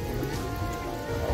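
Heavy rain pours down steadily during an outdoor amateur football match, a dense continuous wash of noise with no clear breaks and no talk.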